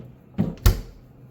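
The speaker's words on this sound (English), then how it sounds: "Here we have some pull-out drawers." Pull-out drawers in a resort hotel room, two quick close wooden knocks, a lighter slide-bump followed by a sharper thud as a drawer shuts, alone in a quiet room.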